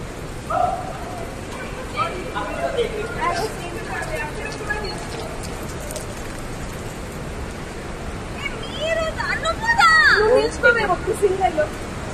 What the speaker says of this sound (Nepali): डेभिस फल्सको पानी चाहिँ झर्ने आवाज चाहिँ हामीले सुनिसकेका छौँ।